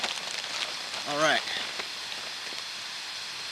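Rain falls outdoors in cold, wet woods near Bogton Falls on Oil Creek, making a steady, even hiss. Someone speaks briefly over it.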